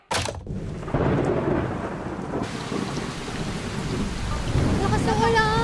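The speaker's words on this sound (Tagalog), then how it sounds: "Lakas na ulan." Heavy rain pours down steadily with rolling thunder rumbling through it, loud and continuous, with a brief pause near the start before the downpour swells again.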